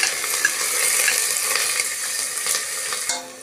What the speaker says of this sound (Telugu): ఆనియన్స్ ఇలా ఫ్రై చేసుకోవాలి.